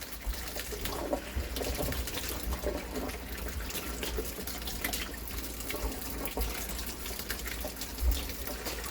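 Warm water runs steadily from a kitchen tap while pizza dough is being prepped, a continuous close splashing stream with small gurgles and a brief louder splash near the end, no voices.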